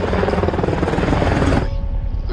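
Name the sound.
helicopter flying, film sound effect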